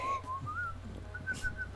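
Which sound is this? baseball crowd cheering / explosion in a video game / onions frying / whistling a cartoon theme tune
whistling a cartoon theme tune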